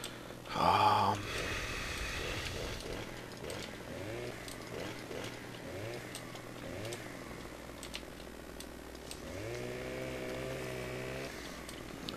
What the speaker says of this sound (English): get this birch log all chopped up here